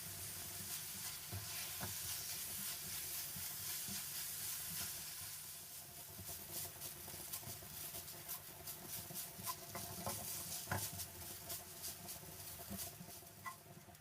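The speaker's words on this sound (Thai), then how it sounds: "เราก็จะมาคั่วกันไปเรื่อยๆเลยนะครับ จน น้ำในหมูแห้งลงไปนะครับ" Minced pork dry-stirred in a pan for spicy southern Thai khua kling, a soft, steady sizzle with rapid pattering and spatula clicks that grow busier toward the end, heard alone without speech.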